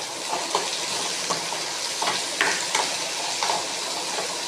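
Tomatoes fry for a greens soup in a pan already holding sautéed garlic, a continuous sizzle broken by the regular scrapes and clicks of stirring.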